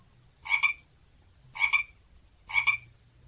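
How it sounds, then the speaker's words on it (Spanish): A frog gives three short, evenly spaced croaks, each a quick double pulse, fairly close and alone against faint background noise. "rana"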